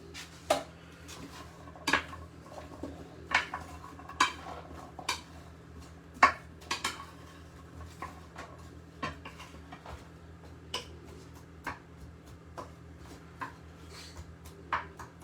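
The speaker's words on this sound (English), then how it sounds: "Just give all these vegetables a nice toss around in all that coconut oil." A spoon tosses chopped vegetables in coconut oil inside a metal dish, giving sparse irregular clinks and scrapes, some sharper than others, over a faint steady hum.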